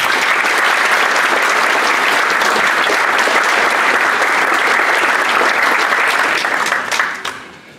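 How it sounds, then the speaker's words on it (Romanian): An audience at the launch of a political movement applauds loudly and evenly, a dense wash of clapping that holds steady before fading at the end. "Vă rog să le aplaudăm înainte de a le invita în scenă."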